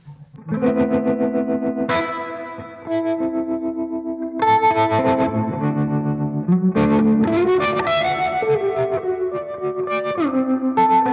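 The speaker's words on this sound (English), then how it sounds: "So here's the bias tremolo, kind of faster." An electric guitar plays chords and notes through a fast bias tremolo effect that rapidly wavers the volume, loud and unaccompanied.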